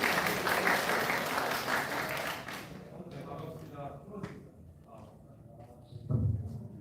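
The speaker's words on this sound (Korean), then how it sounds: "박수로 환영해 주시기 바랍니다." A crowd at a Dobong District Office apartment redevelopment briefing claps in loud, sustained applause that fades out after a few seconds, leaving a quieter room with scattered small noises.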